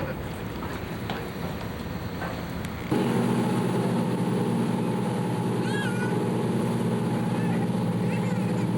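A tour boat engine runs with a steady low drone that jumps abruptly louder partway through, and a high cat-like squeal is heard over it.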